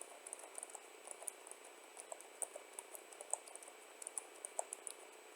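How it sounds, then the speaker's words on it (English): Faint, quick keystrokes on a computer keyboard in a quiet room during a Python programming lecture, with irregular light clicks throughout and no talking. "I just randomly type something."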